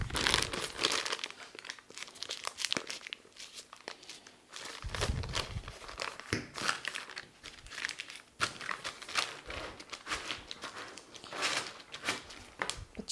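Piping bag filled with cream being crinkled and scraped clean, a close, continuous plastic crumpling and rustling with sharp crackles and scraping strokes, no talking.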